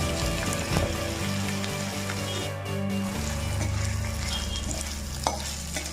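Spice mix of cumin-coriander powder, Kashmiri red chilli powder, salt and shahi garam masala sautéed in a pan for a cauliflower dish, giving a steady close sizzle with scraping stirs throughout, no talking.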